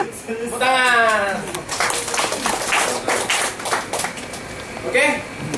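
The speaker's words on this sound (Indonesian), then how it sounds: "Tepuk tangan." An audience at a sales training session claps in a short burst of scattered applause mixed with voices and laughter, then fades under talk.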